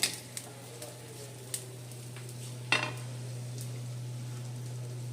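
Aloo paratha with sesame fried in a pan: a soft steady sizzle broken by several sharp clinks of a utensil against the pan, one louder scrape near the middle.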